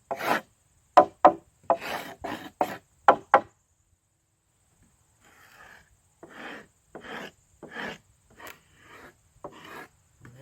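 Wooden 2x6 boards scraped to clear ant runs, sharp rasping strokes in quick bursts, a pause, then a second run of scrapes, close and dry with no talk.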